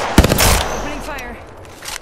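Bursts of rapid automatic weapon fire in the battle royale shooter Apex Legends, loud and close, with a sharp opening shot followed by sustained rattling fire that fades into echoing reverb.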